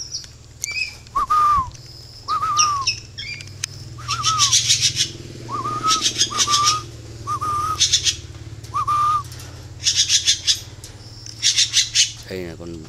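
Spotted doves in a breeding cage give repeated short calls and squawks in spaced bursts, with whistle-like notes between them, set against a steady low background hum.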